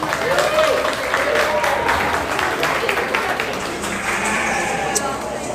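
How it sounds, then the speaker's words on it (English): Applause for exhibitors at a market lamb show, a spread of clapping across an arena with voices and crowd murmur mixed underneath, tapering slightly toward the end. "Let's give all these exhibitors a round of applause."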